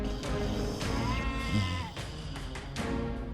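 A goat bleats loudly and close, a wavering drawn-out call followed by shorter bleats, used as a sound effect within a fairy-tale telling, heard on its own without talk over it.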